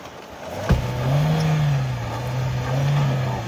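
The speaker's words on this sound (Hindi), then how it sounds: "भाई पत्थर पे अटक गई गाड़ी" Off-road SUV engine straining steadily as it crawls over large rocks on a downhill trail, a low sustained drone with a sharp knock near the start, moderately close.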